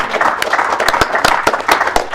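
An audience at a high school basketball roundtable applauds loudly and up close, with a dense patter of clapping and sharp individual claps standing out every quarter second or so, and no talk over it.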